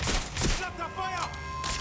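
Gunfire in the Watch Dogs Legion video game, with repeated close shots and thumps heard under game voices and sound effects.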